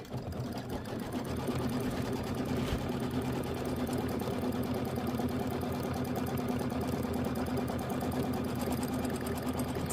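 A sewing machine stitches a tack-down line on quilt background fabric, a steady, fast mechanical whirring and rapid needle chatter running unbroken at close range.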